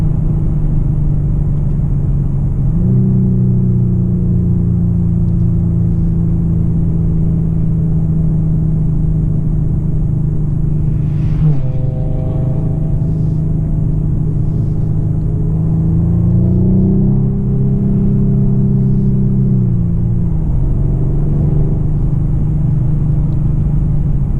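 A 2026 Mercedes CLA 220 with a 1.5-litre engine drones steadily from inside the cabin, its low engine tone rising under acceleration with a gear change midway and another climb in pitch afterward.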